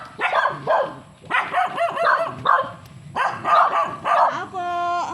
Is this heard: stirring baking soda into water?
no